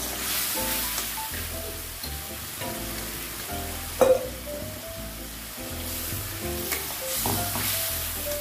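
A little water hits a hot pan of fish curry and sets off a steady, close sizzle that lasts throughout, with a brief sharper burst partway through and tonal music playing underneath.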